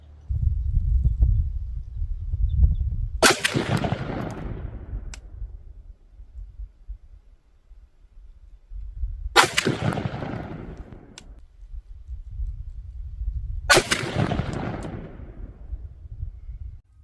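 Three loud, sharp rifle shots from an AR-style rifle with a Stinger complete upper, sighting in a Red Tail optic from AT3 Tactical, spaced several seconds apart with ringing decay and low outdoor rumble between, no talking.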